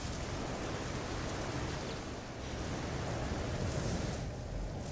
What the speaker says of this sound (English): Painfully hot rain.